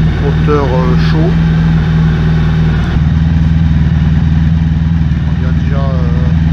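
A warm Honda ST 1100 Pan European motorcycle engine idles loudly up close with a steady rhythmic putter, while someone talks briefly in French over it at the start and end.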